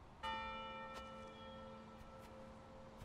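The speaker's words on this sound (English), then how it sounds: "That's more like a normal bell noise." A bell rings out once in the puzzle game Maquette, a clear struck tone with a long, steady sustain that hangs and slowly fades, loud and alone without talk.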